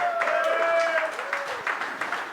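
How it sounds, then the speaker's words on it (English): Comedy club audience applauding and clapping, a dense spread of claps under a speaking voice that carries through, with the applause swelling briefly and then thinning. "Clap it up for white women,"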